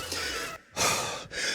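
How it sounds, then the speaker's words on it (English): Heavy, loud breathing right after a bodyweight home workout: close-up gasping breaths in a quick uneven rhythm, two strong exhalations separated by brief pauses, with no talking. "I'm still breathing heavy"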